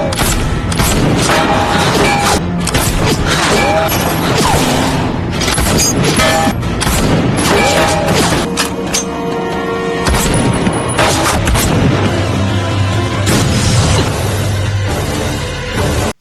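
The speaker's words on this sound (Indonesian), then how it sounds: "Mei sedang mengincar Jintai dengan tembakan jarak jauhnya." Loud, dense action-film gunfire with booming long-range sniper shots and crashing impacts layered over a constant roar, relentless throughout.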